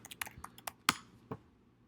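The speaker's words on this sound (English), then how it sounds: "I'm talking and typing at the same time." A computer keyboard is typed on close up in a quick, irregular run of sharp clicks, with one louder keystroke near the middle and a final key press.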